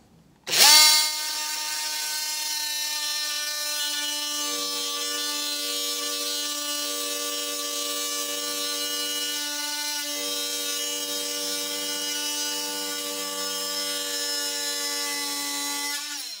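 A power tool cuts steadily through wood along a drawn line, making one continuous loud whine with a stable pitch that starts sharply and runs unbroken for many seconds, close up and with no talk.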